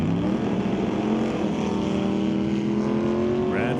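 Drag race cars, a 1966 Acadian and a 68 Camaro, roar in a steady loud engine drone at the strip, the pitch climbing slightly as they run, with no talk over it.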